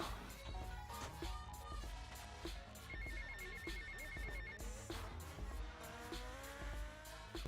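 Phone ringing in GTA: Vice City during a speedrun race, a repeating electronic ring tone over constant game engine and traffic noise, fairly faint in the mix with no talk.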